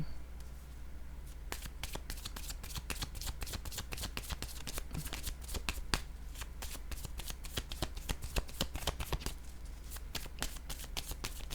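Tarot cards being shuffled by hand, a steady close run of crisp riffling flicks and snaps lasting throughout, with no talking.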